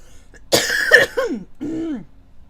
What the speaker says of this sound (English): Here I go again, coughing my ass off because reasons